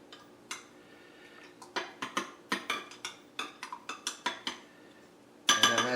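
A spoon stirring instant yeast in a bowl, producing a rapid series of close, bright clinks and taps against the bowl's side, ending in a louder clattering scrape.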